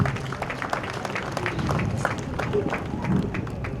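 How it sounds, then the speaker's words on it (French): Mourners at a funeral applaud together, a dense, steady patter of many hands clapping under a murmur of crowd voices and scattered speech. "Applaudissez."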